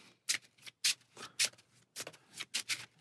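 Board game cards are shuffled in quick, crisp riffles, about eight short bursts of flicking paper close to the mic, with quiet gaps between them.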